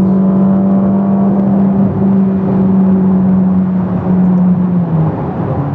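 A Ferrari Roma's engine in sport mode drones loudly and steadily, a strong low hum that holds its pitch under road and wind noise and dips slightly near the end, with no voices.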